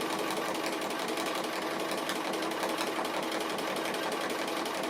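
A sewing machine running steadily to stitch an applique outline in grey thread, a fast, even mechanical whir heard close and alone with no pauses.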